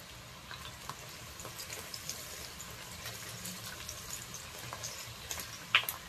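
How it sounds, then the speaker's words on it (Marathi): Crushed green chillies fry in hot oil with onions for a mutton masala, giving a soft continuous sizzle and crackle with scattered small pops, faint and with no talking over it. "आता हे छान परतवून घेऊया।"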